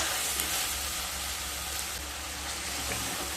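Water hits a hot, sizzling fish curry masala of katla fish with drumsticks, producing a loud, steady, close hiss and bubbling that holds evenly throughout.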